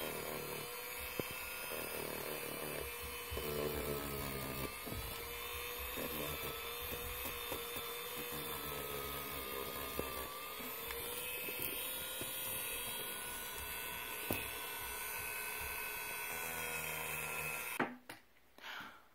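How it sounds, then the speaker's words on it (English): A small power tool sands the leather handles of a Louis Vuitton Alma bag with a steady, high, whining buzz that runs almost unbroken, then cuts off abruptly near the end. "we showed you how to sand the handles with the power tool like that"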